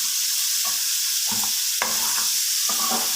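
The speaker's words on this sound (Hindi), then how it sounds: "गोभी को भी इसी तरह फ्राई करना है," Cauliflower fries in a pan with a continuous bright sizzle, close and steady, broken by several short stirring scrapes against the pan.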